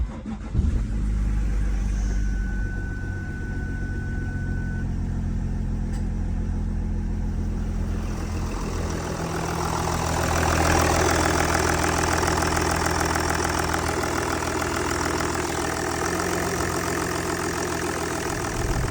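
A Jaguar XF with a newly replaced thermostat housing and freshly topped-up coolant cranks and starts up, then settles into a steady, loud idle nearby with a slight rise in revs partway through.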